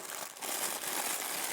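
A plastic packet crinkles during the unboxing of a Citizen Kuroshio 64 watch, a close, continuous rustling that swells briefly after a short pause, with no voices.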